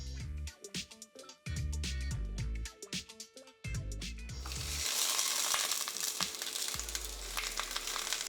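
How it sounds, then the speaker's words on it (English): Bok choy sears in sesame oil in a hot pan on the stove, a loud steady sizzle that swells over several seconds after a stretch of music. "I'll preheat another pan on the stove with some sesame oil and get our bok choy in to sear"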